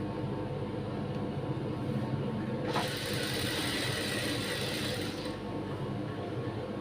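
A sewing machine runs steadily, stitching puff sleeve fabric with a continuous mechanical whir, and a brighter, louder burst of stitching comes through the middle of the run.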